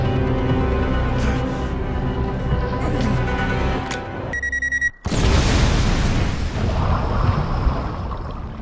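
A bomb hidden under a car seat detonates in a Liam Neeson action film. Tense tonal music and beeping build up before a sudden loud blast hits, followed by a long, dense roar.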